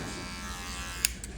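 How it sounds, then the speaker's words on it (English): An electric foil shaver cuts hair while a barber works a low taper, giving a steady, close buzz throughout, with one brief sharper click near the end. "So I'm gonna go in with the shaver"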